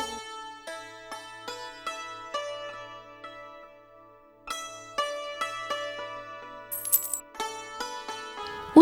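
Coins drop and clink repeatedly in quick bright runs, ringing metallic chimes that pause briefly mid-way and then resume, ending with a final sharper clatter, with no voices.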